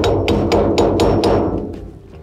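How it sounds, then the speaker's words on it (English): A hammer raps about six times in an even rhythm on the dust seal of a trailer wheel hub, each strike a sharp, close metallic clank, the last few hits lighter as the tapping trails off. "So you're going to use a hammer"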